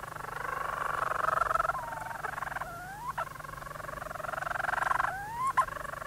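Seabirds call from inside a nesting burrow with a long, continuous warbling croon that rises and falls, broken by short pauses and sharper upward sweeps, heard close and steady with no talk.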